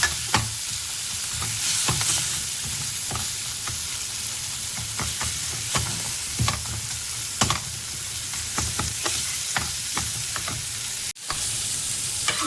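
Masala spices of turmeric powder, garam masala and coriander powder sizzle and fry steadily in a hot pan, with frequent scraping stir strokes for the whole stretch and a short break near the end, no voices.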